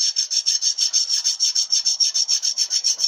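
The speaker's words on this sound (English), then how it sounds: "putting a bit of wet and dry on a file just so that you get it nice and flat" A file wrapped in wet-and-dry abrasive paper rubbing flat across a cast iron Powerglide transmission part, a close, rhythmic rasping of quick even strokes, about five per second, with no voices.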